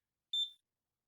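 An electronic device in a video game gives off a single short, high-pitched beep, clean and isolated against silence.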